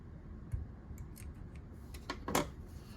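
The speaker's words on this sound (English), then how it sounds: "you're going to fasten off, which is just chaining 1, trimming your tail." Scissors snip a crochet yarn tail on a plum pudding ornament, a few quiet close clicks and short snips spread over a few seconds, with a cluster of crisper cuts near the end.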